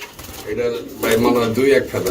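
Pigeons, including black King pigeon young, coo in a loose rhythm at close range, their low throaty calls mixed with someone talking at a pigeon sale.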